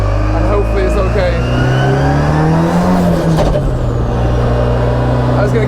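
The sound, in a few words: drift car engine revving on first test drive, pulling through gears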